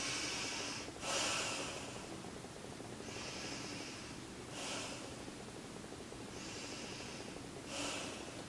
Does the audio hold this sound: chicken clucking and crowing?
no